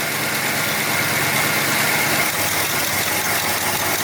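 A Ford F100 engine idles at about 600 RPM, a steady mid-pitched rumble with slight vibration, close and constant throughout without any talking.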